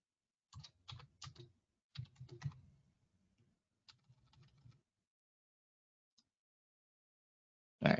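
Fingers tap at a computer keyboard in a few short clustered bursts of close, soft clicks, separated by silent pauses, with a final louder click at the end.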